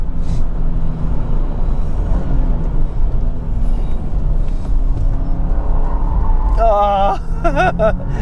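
A 2025 Subaru WRX tS on winter tires accelerates hard, its engine a steady loud rumble throughout, with a voice and a rising whine near the end.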